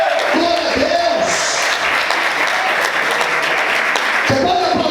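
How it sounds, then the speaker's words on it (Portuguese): Congregation in a church applauding in sustained clapping while a preacher's voice carries over and through the crowd noise. "Você pode aplaudir o Senhor"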